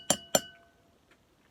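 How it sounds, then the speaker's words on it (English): Two clear ringing strikes on water-filled glasses arranged in pitch order, close and resonant with a fading tone, then a fainter tap and a third short clink. "it's sort of like creating a kind of glass water piano"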